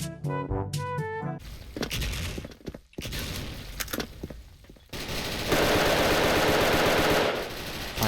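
Tiger Galil rifle gunfire in the online shooter Special Force: loud, rapid automatic bursts crackle up close, broken by brief pauses, with a denser sustained volley near the end.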